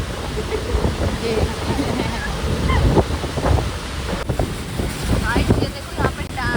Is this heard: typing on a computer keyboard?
no